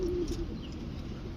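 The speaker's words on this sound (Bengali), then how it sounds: "এই চিলা কবুতর" Chila pigeons in a loft give low soft coos, one clearer call at the start, then a faint murmur over a constant background hum.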